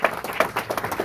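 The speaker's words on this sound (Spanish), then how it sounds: "Dele fuerte ese aplauso a Él," Brief bursts of hand clapping come from a church congregation, with sharp irregular claps close by and no voices over them.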